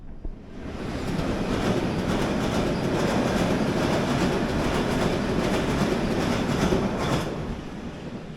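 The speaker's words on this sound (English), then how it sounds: "There goes the train." A London Underground Circle and District line train passes below ground, a broad, steady rumbling roar that swells in and holds for several seconds before easing slightly at the end.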